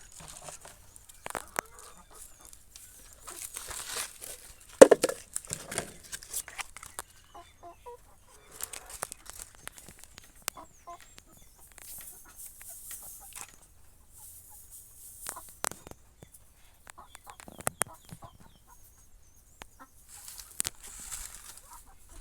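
Backyard hens newly settled in a coop built under a mango tree, giving soft scattered clucks with occasional scratching and patter on the ground, faint and intermittent with brief louder bursts.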